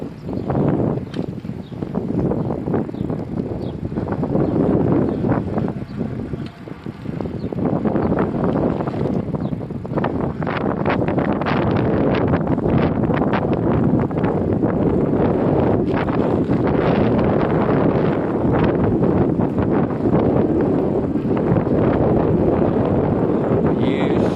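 Wind roaring across the microphone while riding a Cyrusher Grace e-bike at around 20 km/h with a tailwind, a loud continuous buffeting rush that dips briefly partway through and then resumes strongly.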